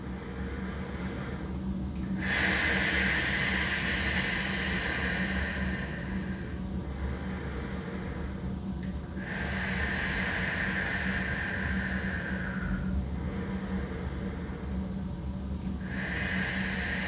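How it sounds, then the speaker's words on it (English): Slow, steady breathing during a guided energy routine: long airy inhales through the nose and exhales through the mouth, repeated in even rounds over a constant background hiss, close and fairly quiet. "inhale through your nose, exhale through your mouth"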